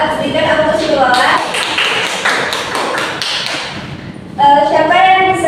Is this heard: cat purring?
no